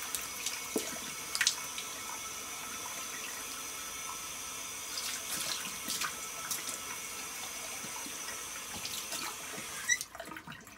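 Cold water runs steadily from a tap during a face-rinsing skincare routine, a continuous hiss with occasional splashes and drips as hands move under the stream, no talk.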